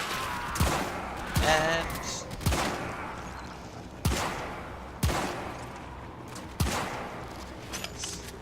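A gun fires in a video game, with about half a dozen sharp, loud shots spaced irregularly and a voice speaking briefly among them.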